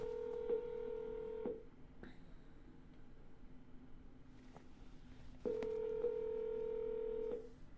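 Touch-tone dialing to reach a buyer: two long steady dial tones with a series of short button beeps, quiet gaps between, heard close and clear over a faint background.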